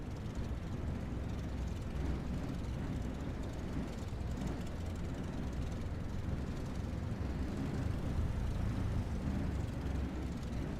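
Continuous drone of a Cessna 172 engine while taxiing in a flight simulator game, a dense, steady broadband roar that stays at constant loudness throughout with no talk over it.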